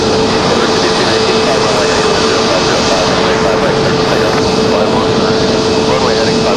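An Icelandair jet airliner departs Raleigh-Durham airport, its engines producing a loud, steady roar that fills the whole stretch, with a faint tonal whine running through the noise.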